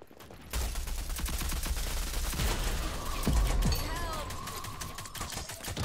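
A video game weapon lets out loud rapid fire, a steady fast stream of shots that keeps going across several seconds after a quiet start.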